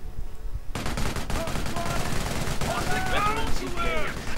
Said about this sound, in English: Nice MG on the flank